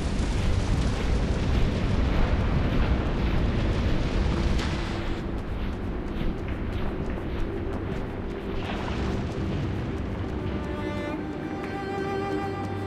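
Fire flare-ups in the video game Dungeon Siege III erupt in a loud, continuous roaring rush. The blasts ease off slightly partway through, and a faint tonal game sound rises near the end.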